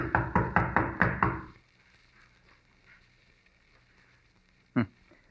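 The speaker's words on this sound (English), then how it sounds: "Pounding on the door isn't going to do any good either." A heavy fist pounds a door six times in a quick, loud series in an old-time radio mystery drama, followed by near silence and one more dull thud at the end.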